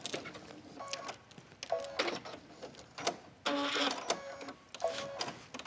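A sewing machine stitching waxed canvas for an envelope purse, running in several short whirring bursts separated by brief pauses, fairly close and quiet.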